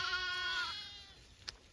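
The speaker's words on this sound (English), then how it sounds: "sheep." A sheep on a green pasture with young lambs gives one long, wavering bleat close by, fading out, followed by a brief sharp click.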